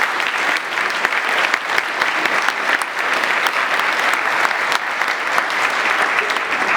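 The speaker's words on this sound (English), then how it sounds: "So if we could just give a round of applause." Sustained applause from a large symposium audience after presentations, steady and dense clapping filling the whole stretch without pause.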